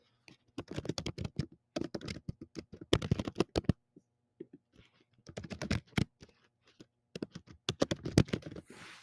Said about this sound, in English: So you would then type in your question here.